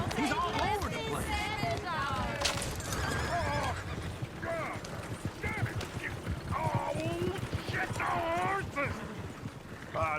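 Horses pulling a coach in Red Dead Redemption 2, with repeated whinnies and neighs and clip-clopping hooves close by while people talk over the commotion.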